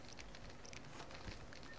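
Soft crackling and popping of a campfire in The Witcher video game, with steady faint fizzing and scattered small snaps.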